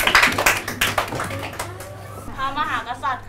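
A Grade 6 social studies class in Thailand breaks into a brief burst of dense, close clapping. The clapping fades after about a second and a half, and a teacher's voice carries on alone.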